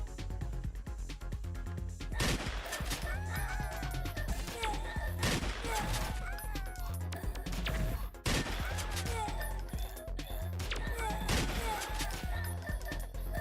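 Shotgun blasts fire repeatedly in the Slime 3K video game, with loud booming bursts roughly every two seconds over dense game music and chaotic battle effects.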